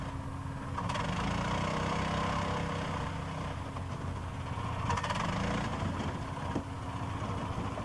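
A 6x6 scrambler off-road vehicle drives through dry leaves in woodland, its small engine droning steadily and loudly throughout with slight rises in pitch and a few knocks, close and continuous.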